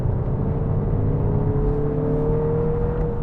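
A 2023 BMW X1 23i engine pulls steadily while driving, a continuous close rumble under a smooth rising whir with no talk over it.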